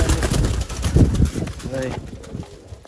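Pigeons coo in low, throaty rolling calls close by at a pigeon market stall, several birds overlapping with flapping and rustling, while someone talks over them.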